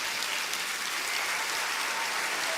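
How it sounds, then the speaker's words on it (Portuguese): A church congregation at a missionary conference gives a steady wash of applause, fairly soft and even throughout, with no talking over it. "nós pudéssemos dar uma salva de palmas ao Senhor por essa história tão linda"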